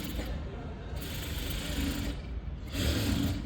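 Sewing machine running steadily while stitching a boat neck blouse, a close, continuous whirring hum with brief pauses and restarts in the motor's speed.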